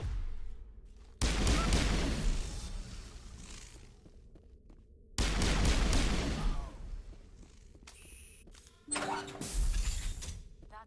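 Sniper shots in Mass Effect Legendary Edition, each a sudden loud crack trailing into a decaying rumble, arriving as three separate blasts a few seconds apart with mechanical clicks between them.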